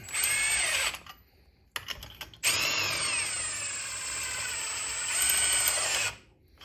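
A power tool tightening the front suspension on a Triumph Spitfire under restoration, whirring loudly in long sustained bursts with short pauses between runs.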